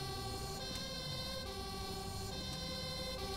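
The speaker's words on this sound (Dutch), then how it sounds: "Kunnen we sirene aanzetten?" Fire truck siren in GTA 5 with a rescue mod, a continuous wailing, pulsing electronic siren over engine rumble, steady and moderately loud.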